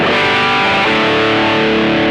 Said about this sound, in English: Great distortion sound.